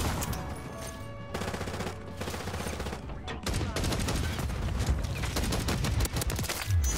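Sidewinder gun in the game MW3 fires in sustained rapid bursts, loud and close, with busy in-game noise behind and a short break near the middle.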